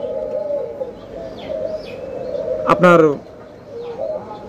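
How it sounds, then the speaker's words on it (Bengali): Doves kept as pets give low cooing under a man's speech, while a sharp bird call stands out clearly near the middle. "ঘুঘু পাখি কিনতে হলে আপনার কোথা থেকে কিনবেন?"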